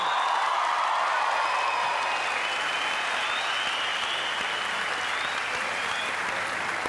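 Sustained applause from a concert audience for a singer on a New Year's Eve singing-competition show, dense and steady clapping that fills the hall throughout, with some cheering mixed in.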